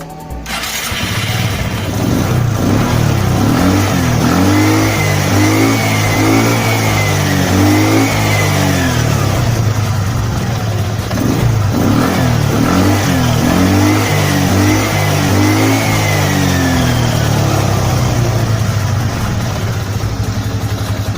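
A Suzuki Skywave/Skydrive scooter with a freshly serviced vacuum carburetor starts and revs repeatedly, a loud, close, buzzing small engine rising and falling in pitch over about twenty seconds.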